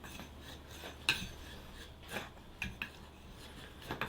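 A chisel carves wood on a tree-stump workbench in a rural village workshop. Quiet, scattered scraping cuts and light taps land at irregular intervals over a soft, hushed background.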